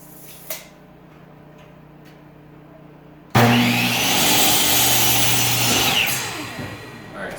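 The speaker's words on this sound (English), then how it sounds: "So we're just going to cut this one in half." A power saw bites into a wooden board being cut in half for a garden raised bed, a loud, sustained whining cut starting suddenly after a quiet lead-in with a few faint ticks.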